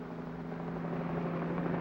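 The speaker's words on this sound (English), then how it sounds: "Whirling over the city, a police helicopter reports traffic movement to the operations center." A steady, droning rotor and engine hum from a police helicopter flying over a city holds constant and fairly loud for the whole short stretch.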